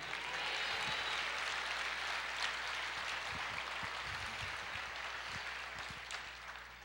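A church congregation claps together in sustained, even applause that fills the room and slowly eases off toward the end.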